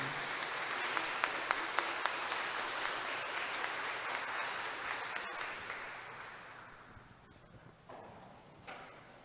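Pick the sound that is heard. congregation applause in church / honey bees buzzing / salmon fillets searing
congregation applause in church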